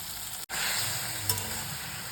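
Ground coriander and cumin hit a hot pan while a fish curry is being made, producing a loud, continuous sizzle with a brief cut near the start and a small pop partway through.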